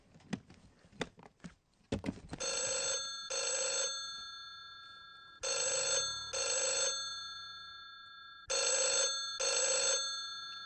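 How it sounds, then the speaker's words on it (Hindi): A telephone bell rings in three pairs of loud, steady electronic bursts, separated by short pauses, after a few clattering knocks at the start. "ये फोन कैसे चालू हुआ"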